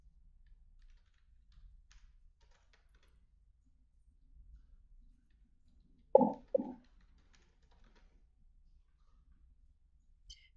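Soft, sparse keystrokes on a computer keyboard as a pattern piece name is typed, quiet and close, with a couple of slightly louder taps midway.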